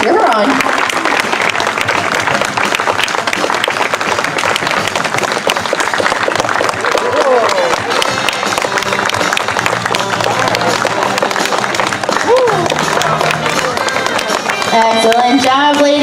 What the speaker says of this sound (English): Let's put those hands together and cheer her on.